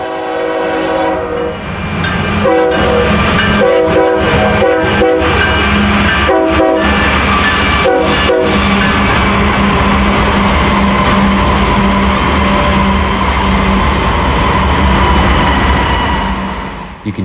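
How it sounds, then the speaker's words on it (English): A model Union Pacific train slows with its dynamic brakes on a large Central Texas layout, a loud, steady rumbling drone with sustained tonal hum that runs continuously throughout. "You can hear the dynamic brakes as the engineer slows the train."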